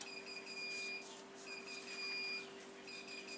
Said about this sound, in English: I hope you can avoid caring too much about that beeping noise.